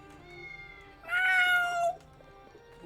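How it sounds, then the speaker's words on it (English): A cat meows once in the video game Triangle Strategy, a bright rising-then-falling cry of just under a second over a quiet game backdrop. "Love cat noises."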